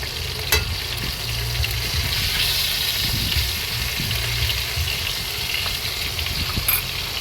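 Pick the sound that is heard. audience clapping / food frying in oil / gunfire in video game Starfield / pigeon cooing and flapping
food frying in oil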